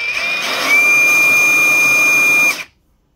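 A cordless Dewalt DCF961 20V Max XR 1/2-inch high-torque impact wrench runs in gear 2 at a loud, steady high-pitched motor whine for about two and a half seconds before cutting off into silence.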